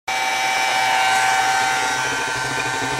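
A water pump in a crawl space, being replaced alongside a 50-gallon electric lowboy water heater, sucks in air with a loud, steady whooshing roar that runs unbroken and alone throughout.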